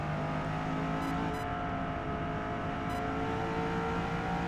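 Corvette E-Ray C8 hybrid engine in Forza Motorsport 8 at the Nürburgring GP, held wide open in fifth gear toward 140 mph, a steady loud drone with layered harmonics and a few brief high-pitched blips, no talking.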